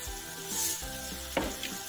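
Beef sizzling and frying in a pan as it is stirred, with a steady hiss and a few soft scraping stirs, close and moderately loud.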